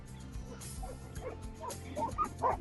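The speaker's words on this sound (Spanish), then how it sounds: "Ahí están mis amigos los perros." A pack of dogs yip and bark in short, uneven bursts at a moderate distance in southern Patagonia, growing a bit louder toward the end over a low motorcycle-engine rumble.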